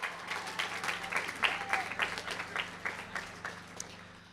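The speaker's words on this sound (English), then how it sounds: "let's give a big round of applause to all those students and young people" Scattered clapping from a modest audience at a pro-life event, with individual claps standing out in an uneven rhythm and a faint hum underneath.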